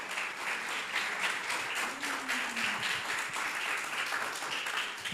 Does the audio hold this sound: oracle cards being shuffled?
no